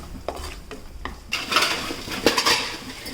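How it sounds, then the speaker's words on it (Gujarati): Dry fruits such as walnuts or pistachios stir in hot ghee in a pan for sweet vermicelli, a metal spoon clinking and scraping against the pan in irregular knocks over a faint sizzle, close and alone. "સારી રીતે સાંતળી લઈશું."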